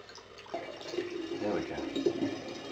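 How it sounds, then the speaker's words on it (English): A homemade wine mixture of water and sugar bubbling and fizzing, soft close-up liquid gurgles and small pops over a couple of seconds, with quiet speech mixed in. "Can actually hear it bubbling."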